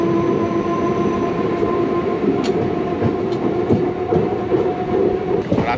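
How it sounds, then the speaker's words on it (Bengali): Jagannath Express pulling out of Cuttack station at night, a steady close rumble of wheels and carriage with faint rhythmic rail clicks running throughout, no voices. "রাত্রি 2টো কটক স্টেশন থেকে আমাদের ট্রেন ছেড়ে দিল।"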